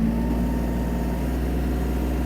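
A Kubota GL-300 mini tractor creeps along in its lowest gear, its engine a steady, close, low drone with a constant hum and no voices over it.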